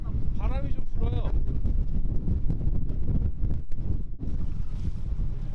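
Wind blowing over the sea near Marado off Jeju, around small fishing boats hunting yellowtail, a steady loud rush with broadband buffeting on the microphone throughout; a voice is heard briefly at the start.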